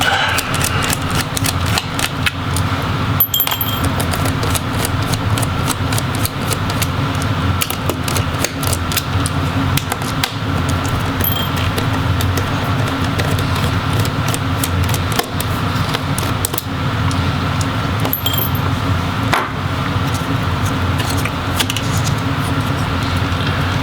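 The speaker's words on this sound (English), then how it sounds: "remove the four screws holding the caddy into the laptop" Screws are removed from the hard drive caddy of an Asus Q504U laptop, producing a steady stream of small close clicks and ticks over a constant mechanical hum.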